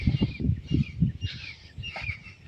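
Birds calling over a farm field, with thin chirps and whistles sounding through low rumbling thuds and outdoor noise that run steadily underneath.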